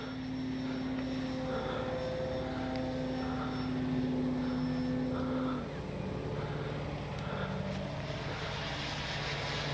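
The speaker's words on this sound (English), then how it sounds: "Easy flying plane." An FMS Fox 3-metre RC glider flies under electric motor power, a steady propeller drone with sustained tonal hums that shift pitch slightly over a constant outdoor background, with no talk.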